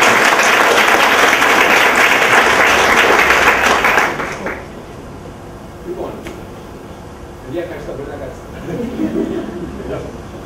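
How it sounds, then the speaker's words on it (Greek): Loud, dense audience applause at a science communication competition final fills the opening four seconds, then cuts off sharply, leaving a quiet room with faint shuffles and a bit of speech. "θέλω ένα ζωντανό και ζωστό χειροκρότημα για τον Γιώργο Ζακαδέλη."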